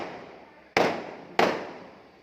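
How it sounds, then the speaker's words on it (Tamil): Two sharp firecracker bursts go off about half a second apart, each a loud crack that decays slowly into a fading echo, with no talking between them. "வெடிக்கிற வெடியை பாருங்க"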